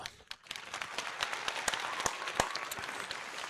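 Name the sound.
applause for the fans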